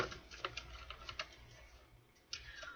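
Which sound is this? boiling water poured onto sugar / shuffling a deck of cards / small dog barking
shuffling a deck of cards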